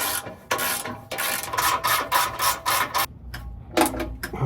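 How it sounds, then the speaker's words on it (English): A ratchet tightens the bolts on a TRD skid plate under a Toyota Tundra, giving a run of close, loud raspy clicking bursts with brief pauses between strokes. "Now we'll tighten down the back too."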